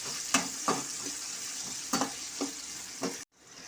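Chopped garlic and onion sauté in hot oil with a continuous sizzle punctuated by a series of sharp spatula scrapes, cutting off abruptly near the end.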